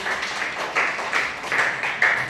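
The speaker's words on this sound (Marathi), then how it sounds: "टाळ्या वाजवा सिद्धीसाठी." First-grade children in a village school classroom clap together for a classmate, a brief rhythmic burst of roughly six to seven beats, close and lively, with no talk over it.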